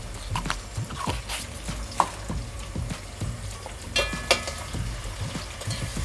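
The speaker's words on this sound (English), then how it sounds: "I'll fry this until it's golden brown." Onion fries in a pan with salt and MSG, a low sizzle broken by irregular clicks and knocks of stirring, close and fairly quiet.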